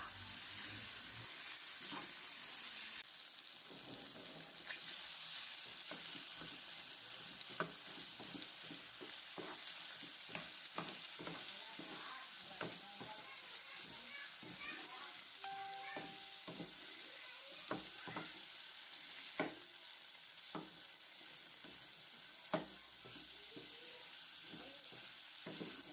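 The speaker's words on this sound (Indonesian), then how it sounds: "Setelah itu, aduk hingga merata" Tteokbokki (topokki) being stirred in a pan after the sauce goes in, a steady broadband sizzle with frequent scraping and clacking stir strokes throughout, fairly quiet and close, no talking.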